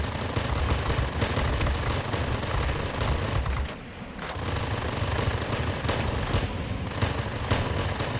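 Sustained .50 caliber machine gun fire from a jet fighter in the World of Warplanes game, a dense continuous rattle of rapid shots with a brief pause midway, loud and close.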